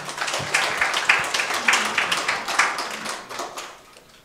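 A modest audience at a startup forum in Sinchon applauds after a presentation, the clapping fairly sparse and uneven with distinct individual claps, fading out toward the end.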